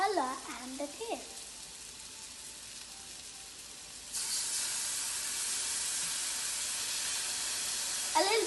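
Soy sauce hits a hot pan of Indo-Chinese vegetable fried rice and erupts into a loud, steady hiss-and-crackle sizzle that holds to the end, after a quieter stretch with a brief voice at the start.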